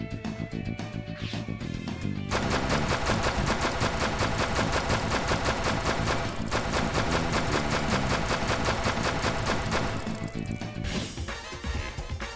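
Rapid electronic gunfire bursts ring out from the arcade light-gun shooter Point Blank X, dense repeated shots layered over busy game music and effects, loud and continuous for most of the stretch before easing off near the end.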